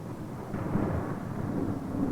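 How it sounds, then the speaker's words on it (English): Low, rumbling thunder from a rare desert thunderstorm rolls continuously at moderate loudness, a broad sustained grumble with no distinct cracks and no voices. "A rare desert thunderstorm."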